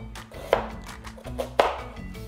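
A knife julienne-cutting vegetables for chicken fajita on a board, with soft sliding strokes and two sharper taps, close and quiet, with no talk.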